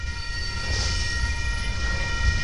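A Union Pacific freight train passes just outside in the dark, a continuous rumbling roar with steady hiss and faint tonal ringing, fairly close and unbroken for a couple of seconds, with no voices.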